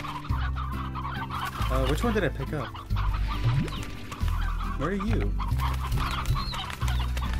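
A rooster and hen from the video game Slime Rancher cluck in bursts over a steady game background, while a person talks between the calls.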